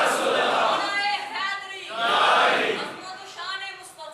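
A crowd at a Friday religious gathering chants a slogan together, with two loud swells of many voices in unison and a quieter stretch between them, echoing in a large hall.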